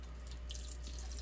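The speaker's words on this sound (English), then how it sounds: "we fill it with our reverse osmosis water and freeze it" Reverse osmosis filtered water runs steadily from a tap into ice cube trays, a close, continuous faucet hiss and splash with no talking.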